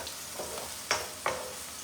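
Chopped onion frying in a non-stick saffron wok, a low steady sizzle with a couple of sharp stirring scrapes close by, no talking.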